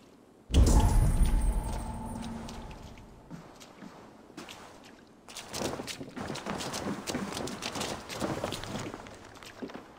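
Horses gallop in a medieval Viking-era setting in Assassin's Creed Valhalla, a loud burst of rushing hooves and movement that settles into steady trotting with scattered gear and ambient rustle, no talk over it.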